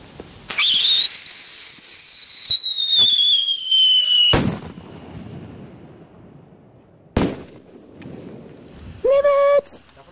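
New Year's Eve whistling fireworks and firecrackers outdoors: a loud, long descending whistle ends in a sharp bang, followed by another crack and a shorter whistle near the end, all close and forceful.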